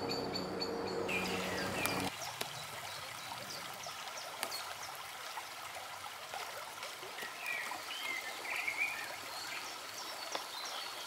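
A brook flows along an old watermill route near a church in Kenilworth, a soft continuous trickle and burble of running water that carries on throughout, with a louder rustling start and faint outdoor sounds behind.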